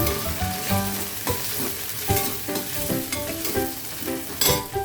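Green peas frying in a pan for Maharashtrian kande poha, a steady close sizzle with occasional stirring scrapes and crackles running throughout, no talking.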